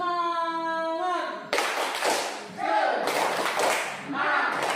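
Schoolchildren in a classroom perform the tepuk semangat clapping routine. A voice sounds first, then bursts of loud, rhythmic group clapping follow in quick sets with chanting.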